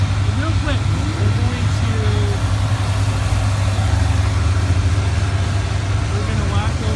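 A giant four-wheel-drive tractor on dual wheels drones steadily at idle while pulling a big disc to groom a dirt race track, a continuous low engine rumble with faint voices in the background.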